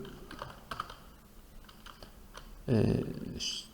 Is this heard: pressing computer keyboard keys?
yes